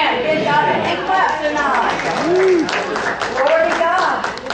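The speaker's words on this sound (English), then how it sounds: "Give God a hand clap" A church congregation claps hands amid crowd chatter and a voice over the top, a dense, steady wash of applause filling the whole stretch.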